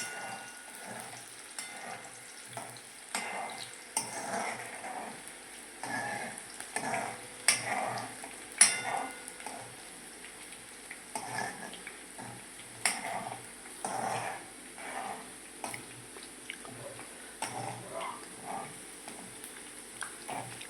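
Ginger and green chillies frying in a pan over a very low gas flame while Gujarati kantola curry is made, giving a steady soft sizzle with occasional stirring scrapes and clinks throughout.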